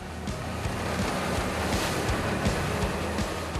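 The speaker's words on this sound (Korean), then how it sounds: "거친 파도에 조업이 쉽지 않을 것 같은데요." Rough, choppy sea surges and splashes around a fishing boat heading out in bad weather off Korea's northern coast, with constant wash, wind buffeting and a low engine rumble beneath.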